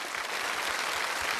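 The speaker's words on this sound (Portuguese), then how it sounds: "Uma salva de palmas para Deus." Applause from a church congregation, steady dense clapping that fills the space evenly throughout, heard at a moderate distance with no talk over it.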